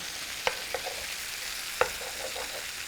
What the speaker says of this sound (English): we're going to add now some of our garlic. But remember, we don't want to burn the garlic. So let's kind of mix this around.